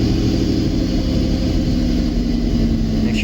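A 1986 Pontiac Fiero with a swapped-in supercharged 3800 engine runs close by at a steady, even idle, a constant low droning hum that does not change throughout.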